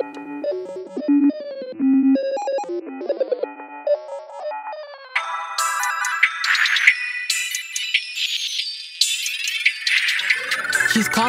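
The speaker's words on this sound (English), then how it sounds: "She's calling my phone, and I don't know why." A phone ringtone plays inside a rap song, first a repeating electronic melody of bright beeping tones, then a busier, harsher synthetic ringing pattern that grows fuller and louder, heard alone without voices.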